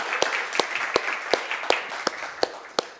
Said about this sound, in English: can we have a big round of applause to volunteers, presenters, and organizers